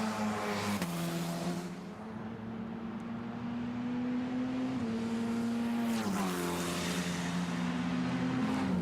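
A Formula Renault Eurocup race car laps the Imola circuit in qualifying, its high engine whine holding steady, then dropping sharply as it brakes and downshifts into a chicane before climbing again, heard from a distance with no voices.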